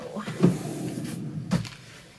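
A bottom drawer in a sewing room is pulled open, giving two short wooden scrapes and thumps about a second apart, close by with a faint room background.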